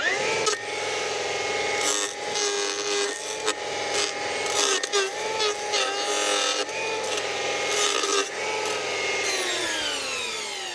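An M18 battery trimmer fitted with a 4-tip blade cuts into wild cherry wood, producing loud, rough grinding bursts with rising and falling whine, interrupted by brief pauses.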